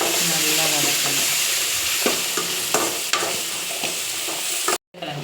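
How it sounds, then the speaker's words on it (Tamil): Spices with turmeric and chili powder sauté for a potato kurma masala in a pan, giving a steady frying sizzle with scattered stirring scrapes and clinks, close and fairly loud, with a brief dropout near the end. "நல்லா வதக்கணும்."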